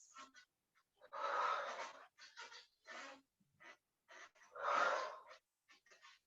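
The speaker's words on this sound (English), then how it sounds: "If you feel the need to exhale loudly through the mouth with a sound or a scream, this is your time to do so." Loud forceful exhales through the mouth during a yoga breathing exercise, several rough airy bursts with two long strong breaths and shorter huffs between, close and alone in a quiet room.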